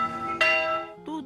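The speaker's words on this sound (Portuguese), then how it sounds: "até o badalar do sino." A church bell built in 1764 rings, with one clear, loud strike ringing out and decaying, followed by a second strike near the end.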